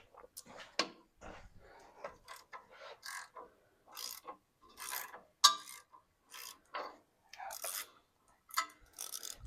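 A ratchet wrench works a rear brake bolt on a 2005 Toyota 4Runner, giving close, irregular bursts of short rasping clicks separated by brief pauses.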